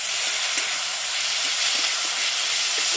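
Slit green chillies drop into eggs and masala frying in a pan, setting off a steady, bright hiss of sizzling oil that holds evenly throughout, close and fairly loud with no talking.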